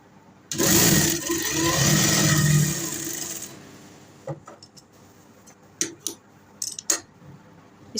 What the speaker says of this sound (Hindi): इसको हमने एक साइड पर सिलाई लगा ली है।